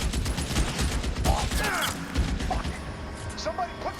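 Gunfire in the L.A. Noire video game: rapid bursts of shots crackle over the first two seconds, then thin out to scattered single cracks, with a voice shouting amid the shooting.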